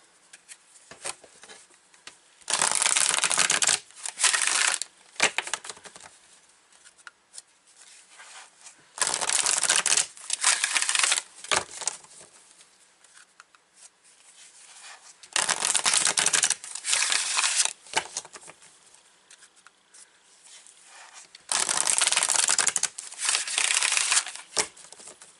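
Spirit Message oracle cards being shuffled in four distinct bursts of crisp, papery riffling, each a couple of seconds long and separated by quiet pauses, close up with no talking.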